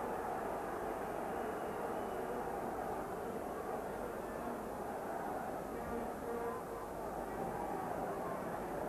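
Gusting wind close to gale strength sweeps across a football ground during a Motherwell v Rangers match, a constant loud broadband roar and buffeting with no breaks, crowd noise blended underneath.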